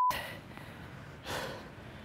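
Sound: heavy breathing of a tennis player

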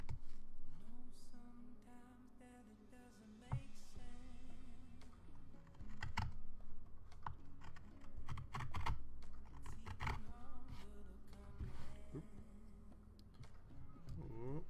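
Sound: typing on a computer keyboard

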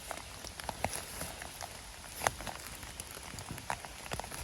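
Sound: rain falling in the forest

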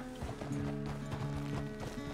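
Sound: horse hooves clip-clopping while riding in Red Dead Redemption 2 video game

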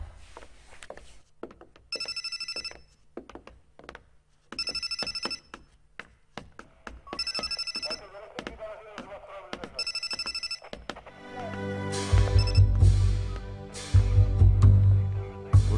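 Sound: old telephone ringing

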